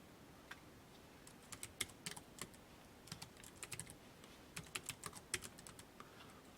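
Fast computer-keyboard typing while filling in a Hangul 2020 word-processor exam exercise, quiet irregular bursts of sharp clicks in clusters with short pauses, no talking.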